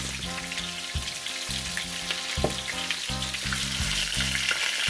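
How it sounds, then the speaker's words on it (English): Jamaican-style oxtail browns in two skillets with a close, steady crackling sizzle, while rhythmic background music with a pulsing bass line plays throughout. "So I can go through this browning process fairly quickly instead of doing one set and then I have to do another batch."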